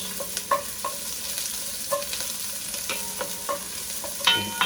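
Finely sliced onion sautéing in a pan, a steady sizzle broken by repeated scraping stirs at a regular pace, close and fairly loud with no voices.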